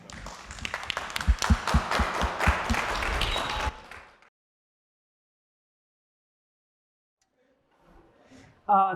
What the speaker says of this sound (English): And then let's give a welcome, a round of applause to Michelle.